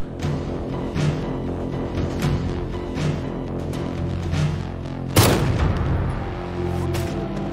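Rifle shots from a sniper film crack out repeatedly in a rhythmic series over droning music, with one louder, broader blast near the end.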